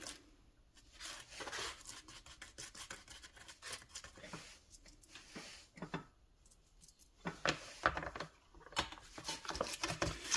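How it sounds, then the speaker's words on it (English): A part from a Ducati 959 Panigale is scrubbed by hand in quick, quiet, rasping strokes, close up and uneven in rhythm, with no talking over it. "Just give it one more courtesy scrub"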